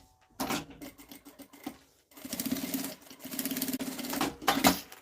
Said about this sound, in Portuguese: Costura com um pé de máquina.